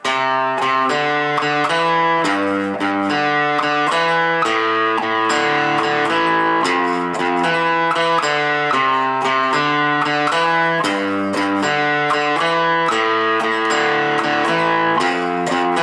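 Electric guitar plays the third and fourth measures of a song, a steady run of strummed chords with moving bass notes, loud and close, with no talking.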